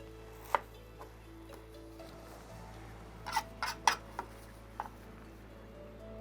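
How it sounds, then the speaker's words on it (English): A knife cutting red onions on a board while preparing African salad, a few sparse sharp taps with a short cluster of quick chops, faint and close over a low steady hum. "And then I'll go ahead and cut some red onions."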